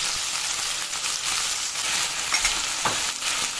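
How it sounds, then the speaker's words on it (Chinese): Pan-seared dried scallops with red pepper sizzle loudly in a wok as it is gently shaken and stirred, a dense steady frying hiss with a few soft scrapes and no talking. "倒入刚才煎好的干贝，然后轻轻晃动锅"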